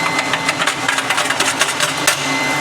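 A Loring coffee roaster's auger and mixer run during a full production batch of specialty coffee, a steady close mechanical drone with a fast, even pulsing rattle throughout.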